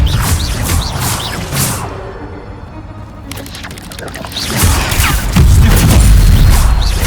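Spell being cast in the Hogwarts Legacy game on PC, a sequence of loud magical booms and whooshing impacts with brief crashing bursts, a quieter stretch in the middle, then a heavy rumbling blast at the end.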